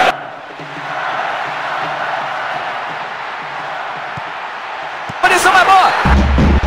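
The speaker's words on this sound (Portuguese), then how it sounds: "Torcida vem junto com o time" A stadium crowd roars steadily through a PES 6 football match between Ypiranga and Aimoré, swelling into a louder surge of cheering near the end.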